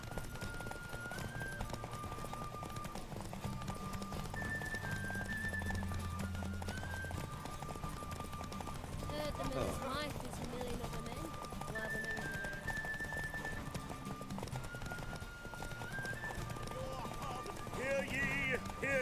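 Horse hooves clip-clop at a gallop during a derby race in The Witcher 3: Wild Hunt, a steady drumming rhythm with occasional whinnies, set over continuous game music and under talk throughout.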